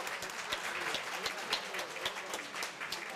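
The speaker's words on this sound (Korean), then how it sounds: "운영 스태프 분들께도 큰 박수 한번 부탁드리겠습니다" An audience at a Korea University labor graduate school awards ceremony gives quiet, fairly distant applause, with individual claps standing out in a steady patter.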